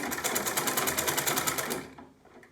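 A sewing machine runs steadily, stitching down a folded fabric hem on a sleeve, its fast rhythmic whirr loud and close for about two seconds before winding down to quiet.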